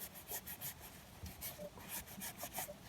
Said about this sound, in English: grab your tile, just give it a wipe, concentrate on the edges,